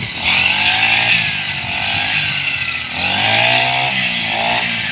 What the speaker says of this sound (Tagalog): Siya po yung nagagas grass cutter.